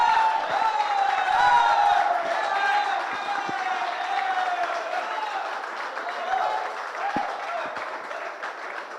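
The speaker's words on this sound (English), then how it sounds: "Aditya getting a roaring applause there from his fellow professionals" Roaring applause from fellow golf professionals at a Gujarat Open golf championship ceremony, a dense, steady wash of clapping with cheers and whoops layered over it, sustained loudly throughout.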